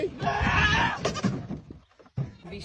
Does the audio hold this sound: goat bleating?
yes